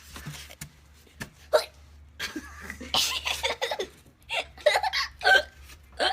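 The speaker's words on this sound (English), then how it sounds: "I have the hiccups." A woman hiccups several times in short, sharp bursts spread irregularly across the moment, close and fairly loud, mixed with breathy laughter and a low steady hum underneath.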